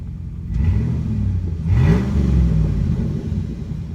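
A 2008 Chevrolet Silverado pickup with a 5.3 V8, muffler deleted and no catalytic converters, rumbling loudly close up with a deep growling exhaust and a brief rev swelling near the middle, no voices.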